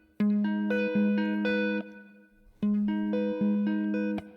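Guitar chords picked one string at a time, each note ringing clean and close in a steady arpeggiated pattern, two phrases separated by a brief pause.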